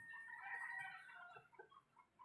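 A well-built pedigree rooster crows once, fairly clear and alone, its voice wavering and breaking up toward the end.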